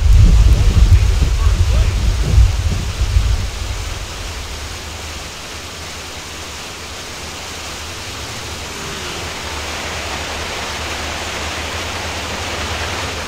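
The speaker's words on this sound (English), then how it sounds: "in my installation video, I used rain audio fix mod" Rain pours in GTA San Andreas with a rain audio mod, a loud, steady broadband wash opening over a deep rumble, then settling into an even hiss that runs unbroken to the end.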